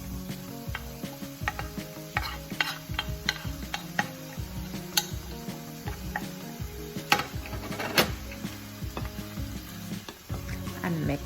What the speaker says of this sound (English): And mix and mix and stir and stir.